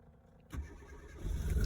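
A Mk3 Mini Cooper S recreation that has not run for quite some time cranks and fires up, a quiet lead-in giving way to a sudden starter burst and then a rising, rough engine rumble close by.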